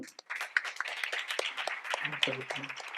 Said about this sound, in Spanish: Creo que le podemos dar un aplauso